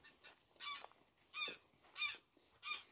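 Farm geese, with ducks and chickens nearby, give four evenly spaced nasal honks, moderately close and fairly quiet, with no talking.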